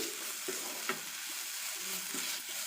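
Masala sundal sautés in a pan with a continuous soft sizzle and occasional stirring scrapes, close and steady, with no talking.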